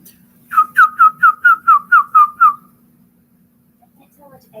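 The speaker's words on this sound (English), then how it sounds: "Are you whistling at it?" A person whistles to ducklings beside a water trough, giving eight short, evenly spaced, clear whistled notes in a row, followed by faint high peeps.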